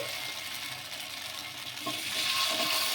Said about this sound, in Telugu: ఇలా నూనె వేసుకొని ఇప్పుడు మనం కలిపి పెట్టుకున్న ఈ బ్యాటర్ని అయితే వేసేసుకోవాలి